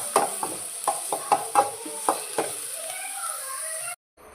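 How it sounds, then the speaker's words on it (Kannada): Crushed ginger, half a tomato, a green chili and curry leaves frying in a little oil, with a constant bright sizzle under about eight quick spoon taps against the pan before the sound cuts off. "ಎಣ್ಣೆಯಲ್ಲಿ ಫ್ರೈ ಮಾಡುವ."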